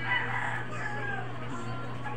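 A five-month-old straight-combed claret stag crowing in a backyard, a hoarse, drawn-out immature crow heard fairly close against a steady low hum.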